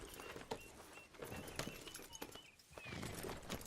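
Horse hooves clip-clop at a steady walking rhythm in Red Dead Redemption 2, fairly close and moderately loud, with a brief rising whinny-like sound near the end.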